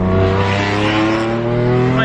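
A BMW F82 M4 fitted with an Armytrix valved exhaust roars loudly and steadily at close range, with sustained harmonic engine drone and a rising tone near the end.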